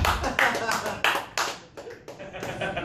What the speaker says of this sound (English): These applause breaks are really weird